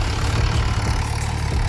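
A tractor engine runs steadily on a farm field, a loud, close, continuous low rumble with an even idling throb and no pauses.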